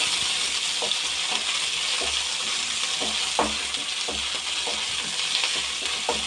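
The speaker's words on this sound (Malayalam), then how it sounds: "അതൊന്ന് നല്ലോണം ഫ്രൈ ആകുന്നവരെ" Shallots sizzle steadily as they fry in a pan, a dense, even crackle running close and loud throughout with scattered sharper pops.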